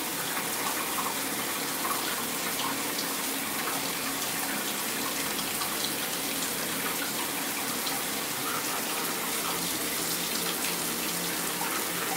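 Steady shower water running in a hotel bathroom at a Garden Inn in Laurel, Maryland, a continuous broadband hiss with no pauses or speech.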